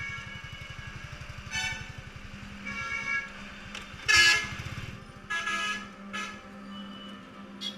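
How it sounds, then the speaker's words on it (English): Vehicle horns honking on a busy Indian road, several short and sustained toots from nearby vehicles over a steady motorbike engine rumble, with one louder blast in the middle. "Another common thing on Indian roads is honking."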